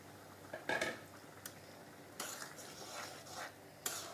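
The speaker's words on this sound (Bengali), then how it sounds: "এখন দিয়ে দেবো এই যে ভেজে রাখা চিংড়ি মাছ" Fried prawns being tipped into a pot of bottle gourd curry, with a few clattering knocks of a spoon against the pot, then soft stirring and splashing in the simmering gravy, all fairly quiet.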